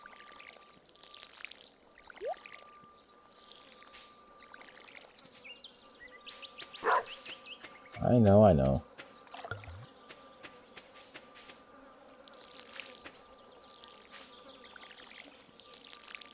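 In a Stardew Valley farming game, a watering can pours with a short burst of splashing water, set against a faint looping buzz of insects and background game sounds, and someone briefly speaks.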